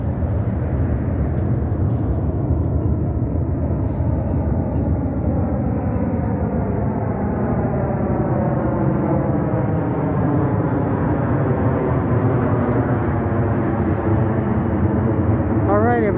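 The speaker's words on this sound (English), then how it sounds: "jet getting ready to take off here," A jet airliner taking off outside Harry Reid Airport in Las Vegas at sunrise, a steady broad engine roar with a slowly rising whine that holds loud and continuous throughout.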